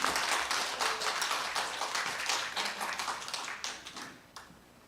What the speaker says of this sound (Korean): 우리 이기설 목사님 나오실 때 큰 박수로 환영해 주셨으면 감사하겠습니다.